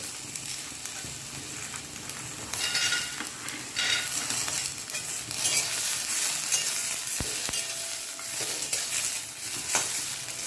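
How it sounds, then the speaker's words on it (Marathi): Peanuts roasting in a pan for a Maharashtrian green chili thecha, heard as a continuous close sizzle and rustle of stirring that grows slightly louder midway, with a brief knock near the end and no voices. "आता यामध्येच आपण लगेच शेंगदाणेही भाजून घेणार आहोत"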